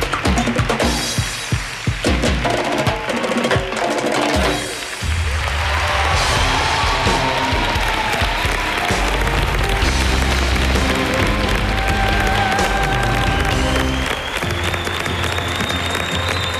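A television studio audience applauds and cheers after a contemporary dance performance, with loud, dense, sustained clapping that continues throughout and music playing beneath it.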